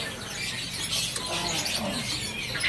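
Caged songbirds such as magpie robins and white-rumped shamas in a bird shop kiosk chirp densely and continuously, with many high, overlapping calls filling the space.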